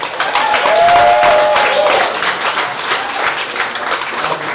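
An audience claps after a startup pitch at a Startup Weekend final-pitch event, with a dense burst of applause and crowd noise, some whistling or voices mixed in, tapering slightly but continuing throughout.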